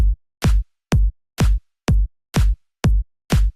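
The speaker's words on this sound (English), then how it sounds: "the kick and clap together sounds like this." Eight punchy electronic drum hits in a steady beat, each a deep booming kick layered with a bright snappy clap, loud and dry with no voices.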